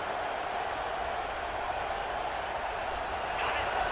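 A roaring stadium crowd in the video game EA Sports College Football 26, a dense, steady wall of crowd noise that holds at a loud level for the whole stretch and swells slightly near the end.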